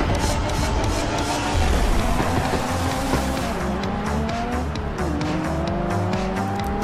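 A Ferrari races in the Forza Horizon video game, its engine howling up through the gears with a shifting pitch, with tires squealing at moments in a loud, continuous run and no talk.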